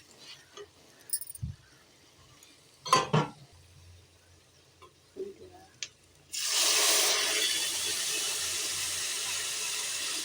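Lemon water poured into a hot pan of fried spices for lemon rice, starting with scattered clinks and taps, then a sudden loud, steady rushing sizzle that continues to the end.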